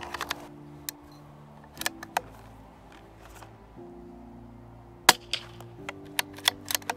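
A CZ 457 rifle fires Eley subsonic hollow point rounds on a range, giving several quiet, sharp cracks spaced irregularly over a low steady hum, each shot brief and subdued.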